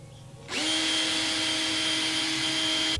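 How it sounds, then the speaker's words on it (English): A power drill spins up abruptly and whines steadily at high speed, loud and close, while boring a hole for a fender flare, the pitch holding constant until it cuts off at the end. "We're going to drill the first hole."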